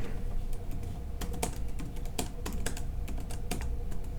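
Steady close typing on a computer keyboard, irregular crisp key clicks over a constant background hum, with no talking.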